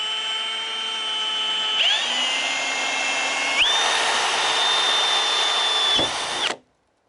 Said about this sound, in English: So we're just going to go at them with the drill.